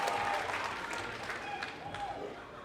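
Wrestling crowd at a live event in Adelaide cheering and clapping, a dense, sustained wash of applause and shouts from a large audience that slowly eases off, with some faint calls rising above it.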